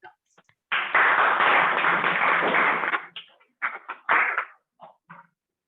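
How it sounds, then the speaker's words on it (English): Applause at a Toastmasters meeting rises in a loud burst of clapping from a small group for about two seconds, then breaks up into scattered single claps as it dies away. "Please give him a big round of applause."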